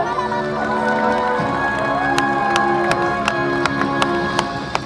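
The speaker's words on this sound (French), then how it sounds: "Et vos applaudissements." A stadium crowd at the Olympia games in an Asterix film roars and cheers in a sustained, reverberant wash, with sharp individual claps punctuating the noise and voices shouting within it.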